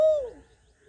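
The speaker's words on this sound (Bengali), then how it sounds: "হ্যাঁ দাদু, কোকিল ডাকছে দাদু।" A single Asian koel call rings out, a clear, fairly loud whistled note that slides downward and fades within a second, with no other sound around it.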